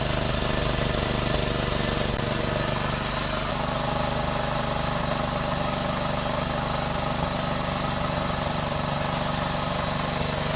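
A small Honda GX160 petrol engine running on 80% sugar-water and 20% petrol idles steadily at close range, a constant droning rumble with a faint rattle that holds through the whole stretch without change.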